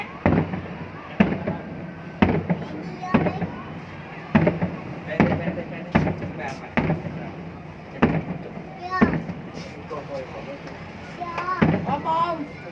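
New Year's Eve fireworks at Ninh Kiều go off in a series of sharp booms spaced a second or two apart, with people talking and exclaiming between the blasts.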